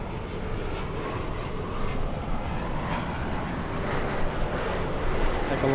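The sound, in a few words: Airbus A220 airliner flying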